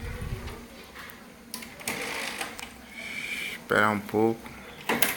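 HP 7612 wide-format printer making a strange mechanical noise during a maintenance procedure: intermittent close whirring, clicks and grinding bursts of the carriage, with someone speaking briefly near the end.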